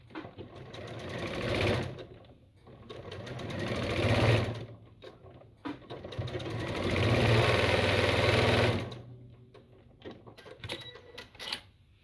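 A sewing machine stitches a fabric basket in several runs of rapid rhythmic whirring, speeding up and slowing down, with brief pauses between bursts and close, fairly loud.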